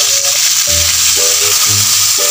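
Crabs hit a hot pan for spicy adobo, a loud, close sizzle and frying hiss that keeps going throughout, with some tonal ringing and no speech.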